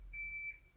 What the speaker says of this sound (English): So sorry about the beeping truck.